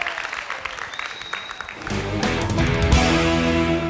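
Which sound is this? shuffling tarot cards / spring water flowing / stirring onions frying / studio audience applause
studio audience applause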